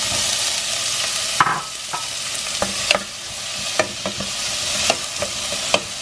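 Onion, squash, carrot and celery cooking in a pot for homemade squash soup: a steady, close frying sizzle with scattered clinks and scrapes of a spoon stirring the vegetables.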